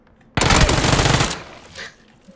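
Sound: gunfire in video game PUBG

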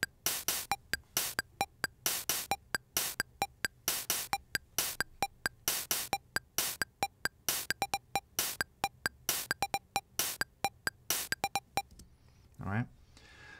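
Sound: classic synthesizer from circa 1981

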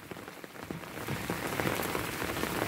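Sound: heavy rain falling on garden

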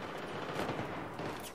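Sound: gunfire in the video game Battlefield 3

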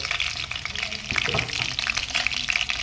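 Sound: green chillies and bay leaf frying in oil

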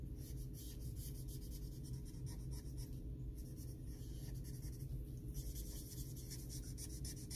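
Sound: coloring with markers on paper

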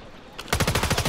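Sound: gunfire in the video game Warzone 3

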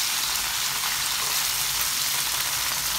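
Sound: chicken frying in a pan

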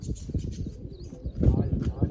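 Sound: pigeons cooing

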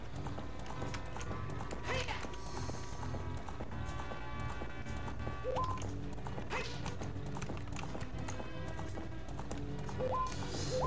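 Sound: horse galloping in The Legend of Zelda: Ocarina of Time video game

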